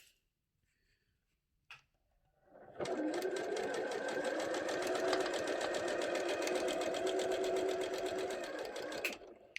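Sewing machine stitching a seam on a fabric storage caddy: a brief tap, then a steady, close whirring run of rapid needle strokes lasting several seconds before stopping abruptly.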